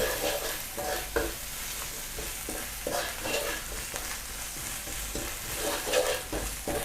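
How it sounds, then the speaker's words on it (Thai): Chilies and garlic stir-fried in a pan over medium-low heat, a steady close sizzle with irregular scraping and stirring strokes throughout. "แล้วก็ผัดให้พริกสุก"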